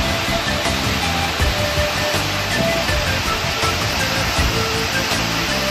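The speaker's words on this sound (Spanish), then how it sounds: "Cascada de Chuveje, Querétaro, Sierra Gorda de Querétaro." Chuveje waterfall in the Sierra Gorda of Querétaro, Mexico, gives off a steady, dense roar of falling water, loud and unbroken throughout.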